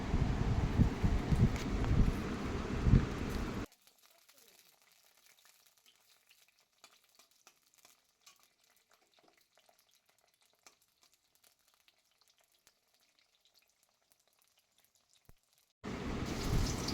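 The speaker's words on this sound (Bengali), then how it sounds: "সেই তেলেই আমি বেগুনটাও ভেজে নিচ্ছি" Eggplant frying in hot oil in a pan, a loud, steady close sizzle for several seconds that cuts to near silence with faint ticks, then the sizzle returns briefly at the end.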